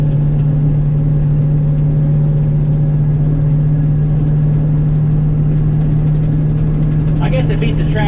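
A loaded grain truck hauling beans on a cold morning drives with a steady, loud low engine drone and road rumble throughout, its cab shaking, with a brief burst of higher clatter near the end.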